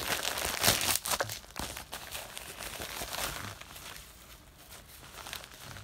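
Paper from a package being handled and crinkled up close, with sharp crackling bursts at first and then softer rustling, no talk.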